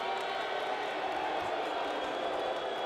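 Steady wall of crowd noise from a wrestling audience at an NYC independent show, a dense continuous roar of cheering voices that stays loud throughout without a break.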